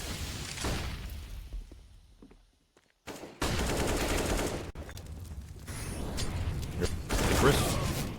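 Rapid bursts of gunfire from a Counter-Strike match, loud and dense across most of the stretch with a brief lull, under an esports caster's commentary.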